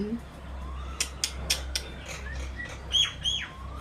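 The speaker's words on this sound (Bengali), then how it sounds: "ডাকো শালিক, তোমার বন্ধুকে ডাকো" A few sharp calls and chirps from a myna, brief and spaced out, over a low hum of background noise.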